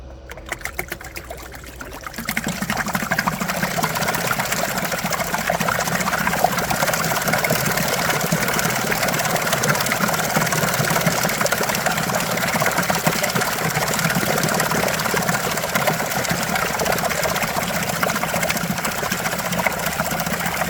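An electric trolling motor driven by a pulse width modulator runs submerged in a trash can test, starting after a brief pause into a steady, close churning whir with sloshing, bubbling water that continues unchanged for nearly twenty seconds.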